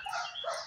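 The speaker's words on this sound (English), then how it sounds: "that's Ori's dog. He's so barky" A dog barks or yaps at a moderate distance in two quick, slightly high-pitched bursts, fairly faint with no talking over it.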